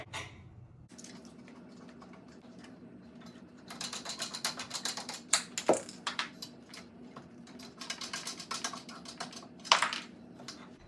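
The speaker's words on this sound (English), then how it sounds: "you just simply have to unscrew these ones" Clicking and ratcheting as the stabilizers of a small folding home treadmill are unscrewed, a quiet start giving way to a busy run of close, sharp ticks and knocks with a few louder clacks.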